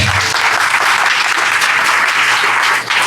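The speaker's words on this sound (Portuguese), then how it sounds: "Então, por favor, Tatiana Roque, senhoras e senhores, uma salva de palmas." Audience applause at a game jam award ceremony, a loud, dense, steady wash of many hands clapping that carries on through the whole stretch, dipping briefly near the end, with no talking over it.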